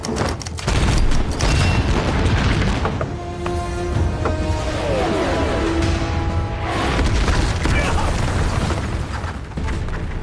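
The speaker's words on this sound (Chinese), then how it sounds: "当大反击的火箭炮摧枯拉朽地轰炸在敌人的阵地上时" Rocket artillery bombardment in a war film battle scene: continuous loud booming blasts and rumbling explosions, with dense crackling bursts and a mechanical whine through the middle.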